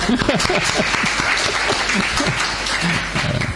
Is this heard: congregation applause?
yes